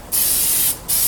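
Aerosol can of etch primer sprayed onto bodywork of a 2000 Ford F-150 in two short close bursts, a bright hissing spray with a brief pause between them.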